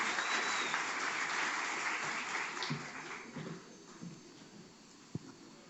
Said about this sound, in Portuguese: Uma salva de palmas para o Glaucio, autor dessa linda música.